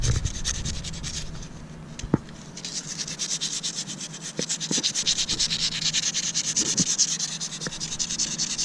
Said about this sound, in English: Cleaning up the input shaft. Get the rust off it.